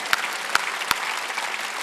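A church congregation claps during a Sunday worship service, a sustained patter of many hands with a few sharper individual claps standing out, fairly close and without talk.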